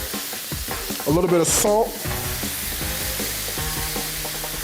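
Shrimp and garlic sizzle steadily in a hot pan with jerk seasoning, close and continuous, with a short burst of stirring and a voice speaking over the frying.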